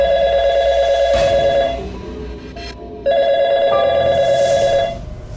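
A telephone rings with a trilling electronic bell in two loud bursts separated by a short gap, close and alone with no talking over it.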